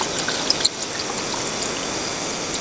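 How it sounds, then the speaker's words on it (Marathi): Water pours into a kadhai being set up as a steamer with a stand for hotel-style dhokla, a steady, close splashing wash with a few small splashes and no talking. "पाणी टाकून घेऊया."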